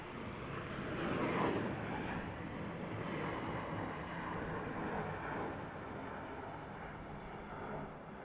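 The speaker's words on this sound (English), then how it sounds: "Here we are at Salt Lake City International Airport." Aircraft at Salt Lake City International Airport produce a steady broad engine roar that swells slightly and then holds, a moderately distant wash of noise with no clear talking.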